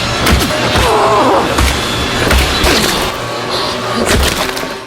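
A door smashed open during a zombie siege: repeated heavy thuds, cracks and splintering impacts, loud and close, hitting in a rough irregular rhythm over a dense, noisy background.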